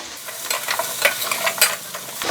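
Ridge gourd sautéing in a pan after tempering with curry leaves: steady close sizzle and crackle with repeated scraping stirs from a spatula, no voices.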